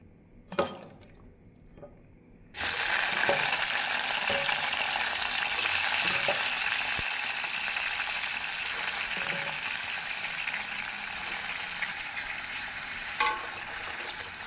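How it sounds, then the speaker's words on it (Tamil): Brinjal pieces drop into hot sesame oil in a pan for thokku, bursting into a loud, steady sizzle after a couple of quiet clinks, with occasional stirring taps over the continuous frying hiss. "எண்ணெய் காயவும் நாம் கத்திரிக்காயை போட்டு வதக்க வேண்டும்."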